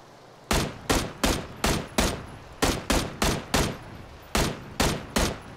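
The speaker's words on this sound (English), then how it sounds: "Fucking light machine gun, man." Light machine gun fire in the video game PUBG: loud bursts of shots in a steady rhythm, about a dozen sharp blasts with brief pauses between groups.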